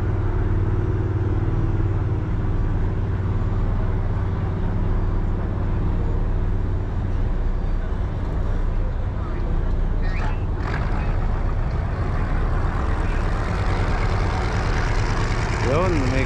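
Honda GX390 engine running aboard a service boat, a steady loud droning rumble throughout, with people talking faintly over it.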